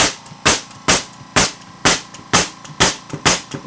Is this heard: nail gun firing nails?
yes